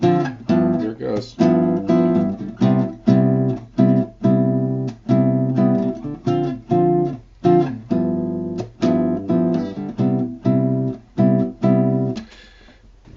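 Clean chords are strummed in a steady rhythmic pattern, the harmony shifting downward partway through, played close and alone without speech.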